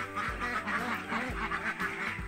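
Laying ducks quack loudly and close by in a rapid overlapping chorus, with several sharp calls breaking through.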